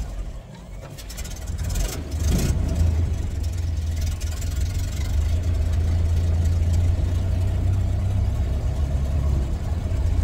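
A 1931 Ford Model A Roadster engine fires up and settles into a steady, loud low idle close by, with a brief burst of starting noise early on.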